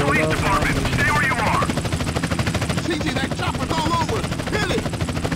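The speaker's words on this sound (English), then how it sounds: "CJ, that chopper's all over." Helicopter in GTA San Andreas thudding overhead amid bursts of gunfire, a loud dense mix of rotor chop and rapid shots, with voices cutting in over the noise.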